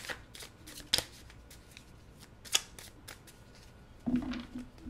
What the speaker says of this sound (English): I'll cut the deck in half.